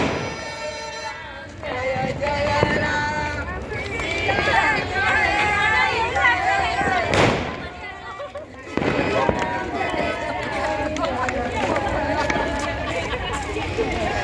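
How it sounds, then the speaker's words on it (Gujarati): Firecrackers set off by boys at a street rally for a Ram temple festival, bursting amid a noisy crowd with chatter and music throughout, one sharp bang standing out mid-clip. "આ છોકરાઓને ફટાકડા ફોડવાની એટલી મજા પડી ગઈ છે ને"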